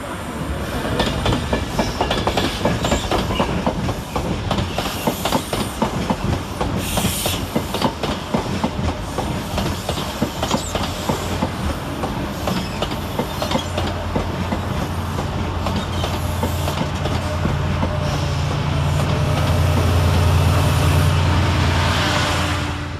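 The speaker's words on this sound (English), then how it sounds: "Arriving to terminate under the head code 5 Foxtrot 60 with a Chiltern Railways mainline silver service from Wembley LMD is 68010" Chiltern Railways class 68 locomotive 68010 rolls into London Marylebone station on a mainline silver service, a steady rumble with rapid wheel clatter over rail joints that persists throughout, joined near the end by a low engine drone.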